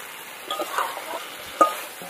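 Prawns and jackfruit frying in a spiced masala in oil, giving a soft, faint sizzle with a few light stirring scrapes and one brief louder clink near the end, heard close with no talking.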